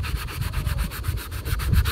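Painted clone trooper armor being sanded, layers of primer, black and white paint under the abrasive, a steady rhythmic scratchy rubbing in quick back-and-forth strokes, close and continuous with no talking.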